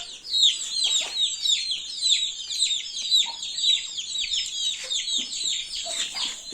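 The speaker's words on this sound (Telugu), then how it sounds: "కోళ్ళు అయితే కూడా ఎంత మంచిగా దవ్వుకొని బుక్కుతున్నాయి చూడండి" Native country chickens cluck and chirp continuously while pecking at their feed, with many overlapping calls from a nearby flock and no talking.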